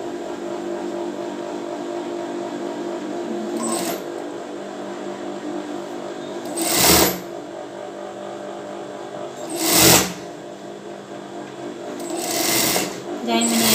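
A sewing machine stitches a bra seam, running steadily at close range with a strong, even whir while someone talks over it. Short sharp clacks break in at several points.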